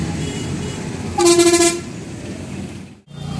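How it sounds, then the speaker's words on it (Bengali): A vehicle horn sounds once in a short, loud blast over the steady rumble of heavy, jammed road traffic near a bus stand, followed by a brief lull before the engine noise returns. "দেখতে পাচ্ছ রাস্তায় প্রচণ্ড জ্যাম"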